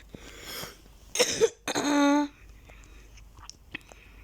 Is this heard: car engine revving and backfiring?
no